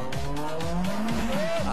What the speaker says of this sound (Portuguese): O cavalo de pau no carro